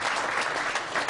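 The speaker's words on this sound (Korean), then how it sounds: "박수 한번 주십시오" Steady, dense applause from an audience at a Korean church prayer breakfast, filling the whole short moment without a break.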